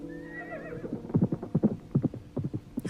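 A horse whinnies in a falling, wavering cry, then hooves clip-clop in a quick, uneven rhythm close by, with no talking.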